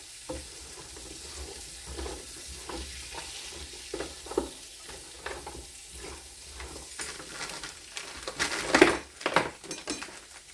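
Food frying and being stirred in bacon fat, with a steady crackling sizzle broken by repeated scrapes and clatters of stirring, growing louder and busier toward the end.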